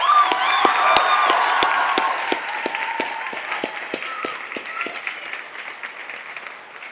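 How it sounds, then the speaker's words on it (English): Audience applause fills a midyear high school graduation ceremony for the graduates, a dense steady wash of many hands clapping in a large hall, with some cheering and a faint voice underneath, slowly tapering toward the end. "Let's go ahead and give our graduates a round of applause."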